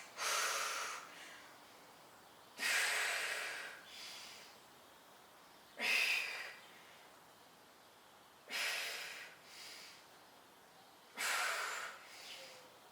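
Five strong, evenly spaced breaths during a chest fly exercise, each a sharp exhale or inhale that fades away, with quiet gaps between.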